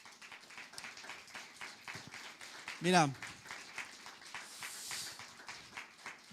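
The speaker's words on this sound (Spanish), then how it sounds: "Dale un aplauso entonces fuerte al Señor." A church congregation applauds loudly for the Lord during a sermon, a dense crackling clatter that runs the whole time, with a preacher's voice and a brief vocal swoop rising over it near the middle.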